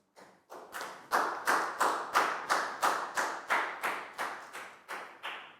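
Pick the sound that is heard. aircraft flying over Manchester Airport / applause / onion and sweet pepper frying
applause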